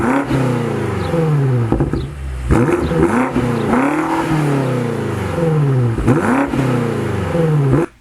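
A 2022 BMW X5 M Competition engine revving loudly through its sport exhaust, with repeated rising and falling revs and sharp pops between them, close and alone until it cuts off.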